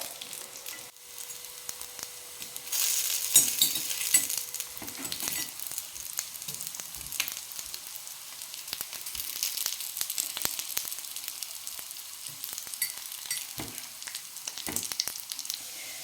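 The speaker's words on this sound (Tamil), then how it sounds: "இன்னொரு சைடும் நல்ல பொன்னிறமாக வேகட்டும்" A snack frying in hot oil until golden, a continuous close sizzle with a louder hissing burst early on and small crackles and stirring sounds throughout, no voices.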